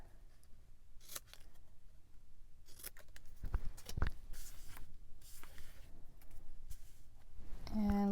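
Scissors snip through scrapbook paper in a series of close, crisp cuts spaced irregularly over soft background rustling.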